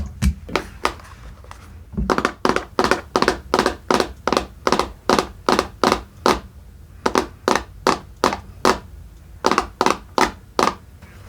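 Sharp, hollow plastic taps and knocks on a cordless drill, close up and loud, with quick rhythmic bursts of strikes broken by short pauses.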